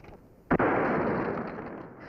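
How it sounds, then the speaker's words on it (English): A single sharp gunshot cracks out in a western gunfight scene, followed by a long rolling echo that slowly fades, loud and close. "Let's show the sheriff here some fancy shooting."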